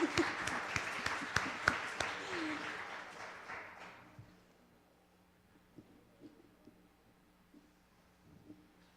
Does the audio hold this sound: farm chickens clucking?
no